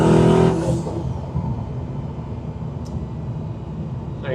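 An Audi RS4 engine on a sport map pulls hard in third gear at about 4,000 rpm. A loud, close roar opens, then it settles into a steady, rumbling drone of driving noise.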